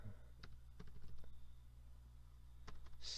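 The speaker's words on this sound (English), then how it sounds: "let me type in where I live" Scattered clicks of typing on a computer keyboard sound faintly and sparsely against a low background hum, with a few separate keystrokes and short pauses.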